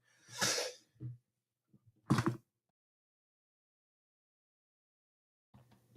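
A man coughs a couple of times in a quiet room, sharp close bursts separated by silence, with faint movement and a soft murmur near the end.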